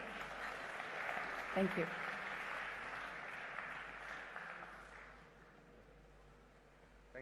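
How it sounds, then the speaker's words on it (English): Audience applause in a large conference hall, a broad sustained patter of clapping from many hands that gradually fades, with a brief spoken thanks partway through. "let us welcome him with a huge round of applause"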